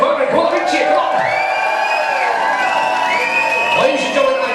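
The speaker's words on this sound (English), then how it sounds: "make as much noise as you possibly can and welcome down to the room for the very first dance" Wedding guests whoop and cheer loudly as the bride and groom enter for their first dance, a crowded burst of shouts and whistling voices filling the room throughout.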